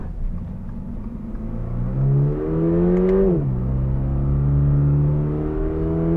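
A 2022 Toyota GR86 with automatic transmission accelerating from inside the cabin: the engine drone climbs in pitch, drops sharply at an upshift, then climbs steadily again, loud and close with no speech.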